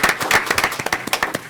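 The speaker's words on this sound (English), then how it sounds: "let's give them a big round of applause" Applause from an audience at a city council meeting, a short burst of quick, dense clapping recognising a local construction business, fairly close and loud with no talk over it.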